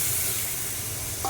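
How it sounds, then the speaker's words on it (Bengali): Water hits a spice paste frying in a pan for a Bengali puti fish curry, giving a strong, even sizzling hiss that stays loud and close throughout the short moment. "সেই বাটিটা ধুয়ে অল্প একটু জল আমি ওতে দিয়ে দেব।"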